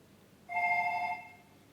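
A single telephone ring sounds alone for about half a second, a clear electronic bell tone at moderate level against quiet background.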